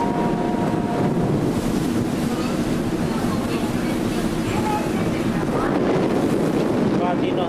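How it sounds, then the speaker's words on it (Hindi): Strong, cold wind at sea aboard a ship, roaring continuously across the microphone with a dense, loud rush that never lets up. "इस वक्त तेज़ ठंडी ठंडी हवा चल रही है, समंदर में सफ़र कर रहे हैं।"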